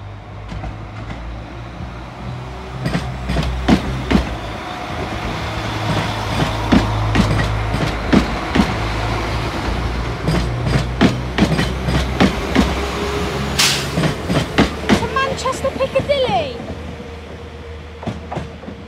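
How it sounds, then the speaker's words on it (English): A Northern passenger train pulls out of a platform at Sheffield station, its rumbling engine and rhythmic clicking wheels steady and fairly close, with a brief high squeal and hiss near the end and no talk. "Departing platform 5A is the delayed 1314 Northern train service to Manchester Piccadilly"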